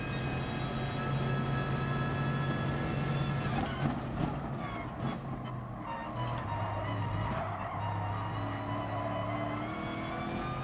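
In the racing game GT Sport, a Porsche collides with a Mercedes amid roaring race car engines, with tire squeal and scraping through the middle over a constant loud engine drone.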